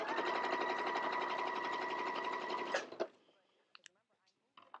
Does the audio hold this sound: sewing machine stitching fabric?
yes